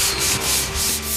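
Sandpaper rubs across an interior wall in steady back-and-forth strokes as prep for painting, a close, continuous scratchy hiss that swells and eases with each pass.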